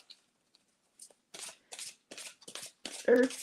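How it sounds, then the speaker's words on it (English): A deck of playing cards being shuffled several times at a table, producing short bursts of riffling and flapping at a close distance, with quiet gaps between the shuffles and no talk over them. "So we got to give this a few good shuffles. Get nice and all shuffled up."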